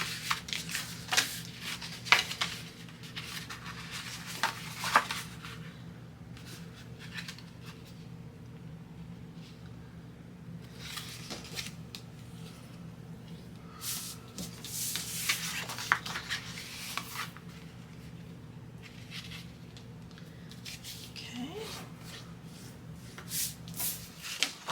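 Folded paper pages are burnished with a tool in a quiet craft setting, giving soft intermittent rubbing and scraping strokes, some brief and sharp, over a low steady background hum.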